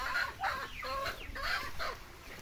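Pigeons in a pen by a pond, several soft bird calls repeating in a loose rhythm, close and moderately loud, with no talking.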